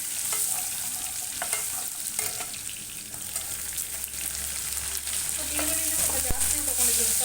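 Onions with ginger and garlic frying in a pan for a vegetable dish, a steady loud sizzle broken by repeated scraping and knocking of a spoon stirring.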